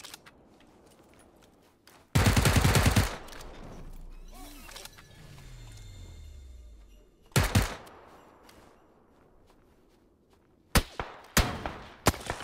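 Gunfire in the PUBG video game on the snowy Vikendi map, several loud bursts of shots separated by quieter gaps with mechanical clanks and a falling whine between them.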